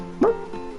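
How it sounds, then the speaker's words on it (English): A single short dog yelp or bark from the Final Fantasy X video game sounds near and clear, with a rising then falling pitch over a soft game background. "Oh, doggy. Kind of. Woof woof."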